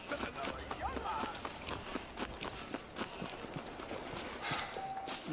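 Horse hooves clip-clop in a rapid, even rhythm from Red Dead Redemption 2, mid-distance and steady under faint game ambience throughout.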